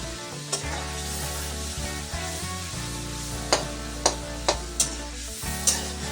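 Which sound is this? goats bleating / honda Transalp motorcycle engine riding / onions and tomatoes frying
onions and tomatoes frying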